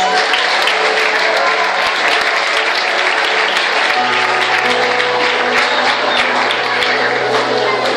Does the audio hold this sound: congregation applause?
yes